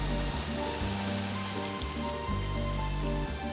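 Rain pours steadily in an animated Malayalam moral story, a dense continuous hiss over low tonal background music, with no voices.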